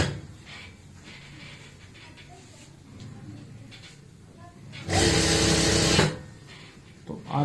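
An electric sewing machine stitches a gota patti border, with a soft whirring under the quieter stretches and then a loud, close burst of running stitches lasting about a second before it stops.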